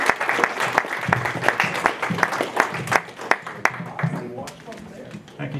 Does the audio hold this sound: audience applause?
yes